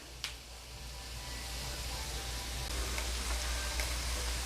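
Chicken and squash bubbling in a pot for calabacita con pollo, giving a steady, low simmering hiss and gurgle, with a faint clink near the start and no talking.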